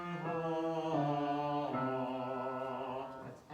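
A singer demonstrates an NG-to-ah vocal exercise, gliding from a hummed nasal tone into an open vowel across five descending notes; one clear sustained voice, close and steady, with no accompaniment.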